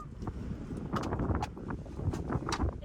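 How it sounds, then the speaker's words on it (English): Strong wind buffets the microphone outdoors beside a combine on a Montana farm during harvest, a continuous rough rushing roar with gusty surges and no speech. "It is very windy out."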